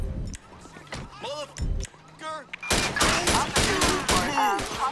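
Rapid gunfire rattles in GTA 5 with the LSPDFR police mod, first as scattered sharp shots, then a dense, loud continuous volley, while someone speaks over the chaos.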